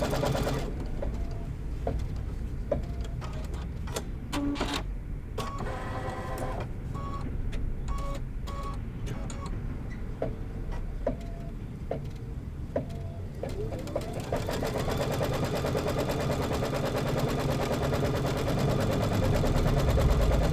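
A sewing machine stitching quilt seams runs steadily and close by in a rapid mechanical chatter, the needle rhythm holding for the whole stretch and growing slightly louder toward the end.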